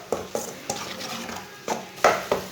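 Beaten eggs for an omelette cooking in a pan, with a quiet background sizzle broken by a series of sharp utensil taps and scrapes against the pan at irregular intervals.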